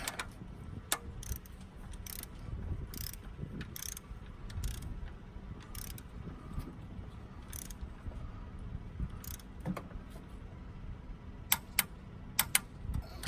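Socket ratchet clicking while re-torquing the cylinder head on a 1988 Mitsubishi Starion, with bursts of close mechanical ratcheting and a few sharp metallic ticks near the end, no talk.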